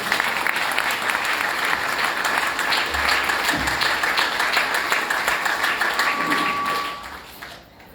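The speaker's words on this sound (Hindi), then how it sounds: "एक बार जोरदार ताली" A hall audience at a Navratri spiritual camp in Meerut breaks into loud, dense applause that holds steady for several seconds, then tapers off at the end.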